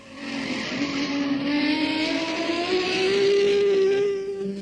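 A 1965 Targa Florio race car climbing a Sicilian mountain road circuit, its engine howling steadily upward through the revs, loud and close, with a rising, sustained tone as it passes.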